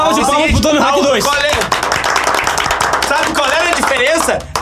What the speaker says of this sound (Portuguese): Uma salva de palmas pro Tony Hawk 2.